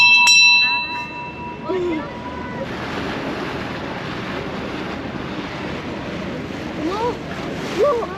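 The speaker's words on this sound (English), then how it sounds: "You can ring the bell." A bell aboard a cruise boat at the Statue of Unity in Kevadia, Gujarat, rings in a few loud, close, clear strikes at the start, then fades under steady wind, water noise and children's voices.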